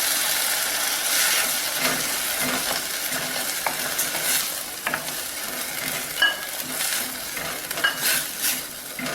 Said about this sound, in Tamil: இப்போ இந்த பருப்பை சேர்த்து வேக விடுவோம்.